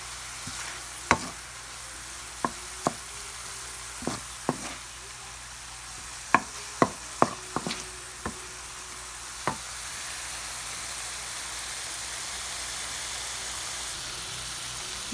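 Ground pork sautéing in a pan for picadillo soup with cabbage and potatoes: a quiet, steady sizzle under a scattering of sharp spoon clicks and taps against the pan, which stop partway through as the frying continues alone.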